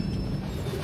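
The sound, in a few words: Mangalore–Madgaon MEMU passenger train passing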